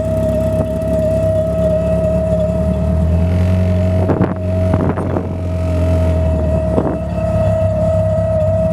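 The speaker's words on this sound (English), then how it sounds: "the whirring noise that you can hear there is the oil pump, which is probably the loudest part of it" The oil pump of a remote-turbo Peugeot 306 GTI-6 gives a loud, steady, high-pitched whir that holds constant, with a few faint knocks and rustles around it.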